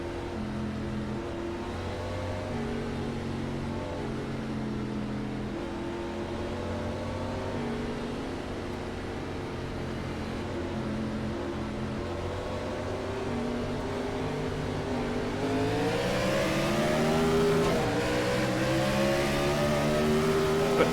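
Gen 4 Cup stock cars racing at Iowa in the iRacing sim: a loud, steady engine drone holds throughout, then climbs in pitch as the cars accelerate in the final seconds.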